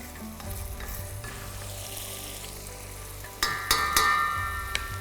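Tomato and yogurt masala roasting in a pan for dhaba-style achari paneer, a steady close sizzle and fry with scraping stir strokes that grow louder and sharper toward the end.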